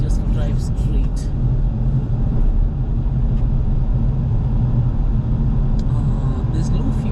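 A car drives along the road with a constant, loud low rumble of engine and road noise from inside the vehicle, with someone talking over it.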